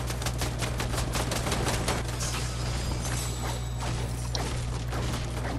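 Gunfire in an online shooter video game, a dense run of sharp rapid shots crackling steadily throughout at a fairly close distance, with no talk over it.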